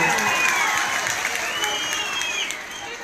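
Audience clapping and cheering at a Ganesh Utsav music show with a singer and musical group, a steady dense wash of applause that fades slightly toward the end.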